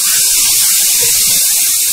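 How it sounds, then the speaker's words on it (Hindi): Water poured from a bowl into a cooking pan on a gas stove, a steady close splashing hiss that runs through the whole short stretch with no talk over it. "पानी डाल रहे हैं।"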